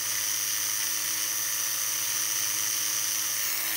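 A Pro Tool electric nail drill shapes and prepares a fingernail for gel powder, giving a steady high-pitched whine that stays loud and even throughout, with no talking.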